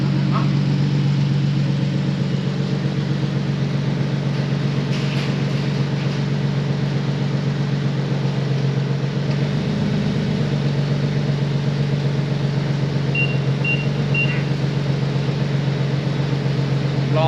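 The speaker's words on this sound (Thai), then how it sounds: "เครื่องเดินเรียบๆเลย" A second-hand, heavily modified Nissan 370Z idles smoothly with a steady low engine hum, close by and constant, with a few faint clicks over it.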